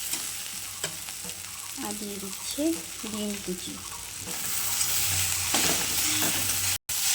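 Pasta fries and is stirred in a pan, giving a continuous sizzle broken by scraping spoon strokes, while a voice talks briefly over it.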